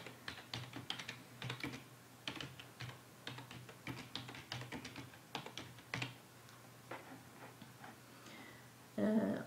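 Rapid, close tapping on a computer keyboard runs steadily as a title is typed, in light irregular bursts with no voice over it.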